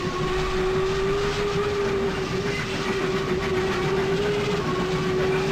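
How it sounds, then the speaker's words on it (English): A steady, continuous locomotive whistle tone from the OpenRails train simulator game holds unbroken for several seconds over rumbling train running sounds, loud and near. "the whistle on the locomotive is a looped whistle"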